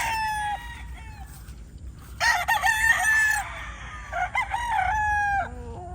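A rooster crows loudly and close several times in overlapping calls, mixed with chickens clucking and squawking nearby in a farmyard, with no talking.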